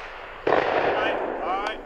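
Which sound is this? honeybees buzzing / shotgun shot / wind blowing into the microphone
shotgun shot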